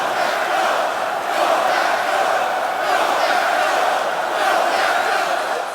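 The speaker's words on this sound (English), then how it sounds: "The crowd was in a frenzy." A huge stadium crowd roars in a steady, dense wall of cheering at the Super Bowl, loud and unbroken throughout, with no clear individual voices.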